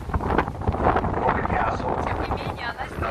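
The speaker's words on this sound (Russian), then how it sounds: "Холодно очень, ветер жуткий." Strong, gusty wind buffets a microphone near the Statue of Liberty in New York on a cold day, a steady loud roar with rushing noise throughout.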